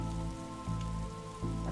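Steady rain patters in The Darkside Detective video game, a dense, even hiss of drops with a low tonal hum beneath it and no talk.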